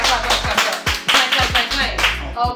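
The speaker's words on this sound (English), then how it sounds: "Let's clap." People clap for a guest on a cooking show, a short spell of sharp, uneven claps from a small group close by, mixed with brief cheerful voices.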